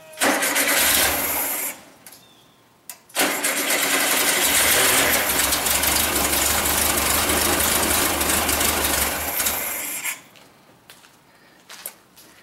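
A 1974 VW Super Beetle with a freshly swapped engine cranks and fires, revving loudly for several seconds, cutting out, then restarting into a sustained, rough running roar before dropping off near the end.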